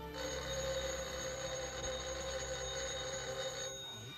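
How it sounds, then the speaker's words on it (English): A telephone rings steadily and loudly for about four seconds, then cuts off abruptly. "Let it ring. Oh, it will only keep on ringing."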